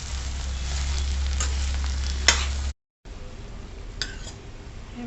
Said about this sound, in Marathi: आता आपण हे परतवून घेऊ छान तेलावर।